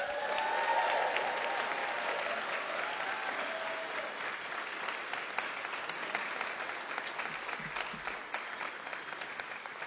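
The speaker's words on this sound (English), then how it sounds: "one more round of applause for all our graduates" Sustained audience applause for graduates at a spring convocation ceremony, a dense steady wash of many hands clapping that holds evenly throughout without a break.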